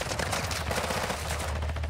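Rapid bursts of automatic gunfire in the shooter game Call of Duty Modern Warfare II, DMZ mode, crackling densely and continuously at moderate loudness without talk.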